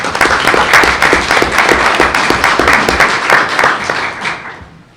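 People at a school board meeting applaud in a dense, steady round of clapping that fills the room, then thins and fades out toward the end.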